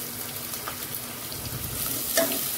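Chopped onion sizzles in hot oil with curry leaves and chillies while making lapsi, a soft steady frying hiss that rises slightly near the end as it is stirred.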